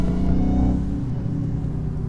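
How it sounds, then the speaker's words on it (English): A 2020 Dodge Charger Hellcat Widebody pulls in second gear under light throttle, its supercharged engine giving a deep, loud, close rumble with a rising whine that eases off toward the end. "supercharger be sounding crazy"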